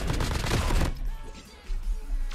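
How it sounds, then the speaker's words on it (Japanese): A short burst of rapid M13 rifle fire in Call of Duty Mobile battle royale, then quieter reload clicks and a couple more bangs. "銃声とリロード音がめっちゃかっこいいんですよ。"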